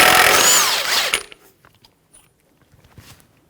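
A power tool spins a 32 mm socket to take the axle nut off a front wheel of a 2007-2017 Jeep Patriot 2.4L, a loud, dense burst of whirring and rattling for about a second, then faint small clinks.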